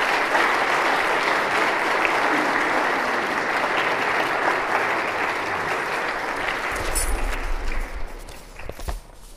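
Applause from an evening lecture audience welcoming the speaker to a talk on Vatican II, dense sustained clapping from many hands that holds steady and then thins out near the end, with a few thumps and no voices.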